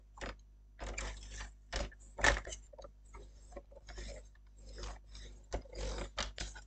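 A paper trimmer (massicot) scoring a fold line into card for a two-panel greeting card, giving a series of scraping, clicking mechanical strokes in uneven bursts, close and moderately quiet, with no talking.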